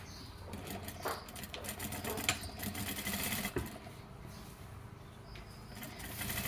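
A sewing machine stitches a fabric seam in a steady, close-up mechanical whir, with brief clicks and small pauses in the running.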